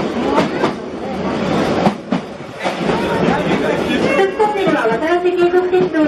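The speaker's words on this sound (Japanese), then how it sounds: "この先列車は全長5242メートルの鎖トンネルへと入ってまい" A Watarase Valley Railway trolley train rolls toward a long tunnel in a valley, wheels clattering on rails beneath a steady rumble while a voice speaks over it throughout.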